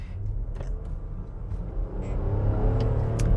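A 2022 Infiniti QX60 crossover accelerates, heard from inside as a low, steady engine and road rumble that swells gradually, with no talking.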